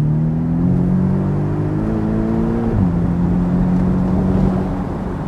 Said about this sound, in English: You can hear the exhaust tone change.